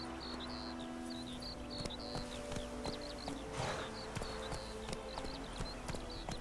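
Horse hooves clip-clop steadily in The Witcher 3, a moderately near, even gait under a bed of insect and bird ambience, with faint game sounds scattered throughout.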